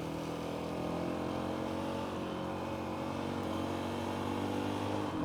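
Honda CRF450L dual-sport motorcycle engine running steadily at a cruising throttle, a continuous close droning hum with wind noise, no talk over it.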